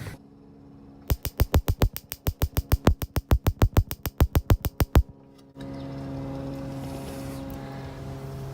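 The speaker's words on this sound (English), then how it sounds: "That's the sound of a fixed grill that didn't really need fixing, but Morgan insisted" The repaired ignition on a grill aboard a boat tied up at a dock clicks in a fast, steady train of sharp, close sparks, around thirty in four seconds. It then stops, leaving low outdoor ambience.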